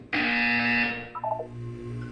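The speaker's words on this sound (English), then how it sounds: "You will hear a buzzer. When you hear the buzzer, look up at the ceiling." A game buzzer from Portal 2 sounds once as a loud, steady electronic tone lasting about a second, followed by a quieter, wavering tail and lingering hum, with no voices.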